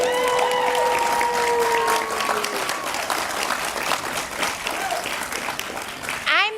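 An audience at a Roger Williams University commencement ceremony breaks into loud, dense applause that gradually thins and fades over several seconds before cutting off.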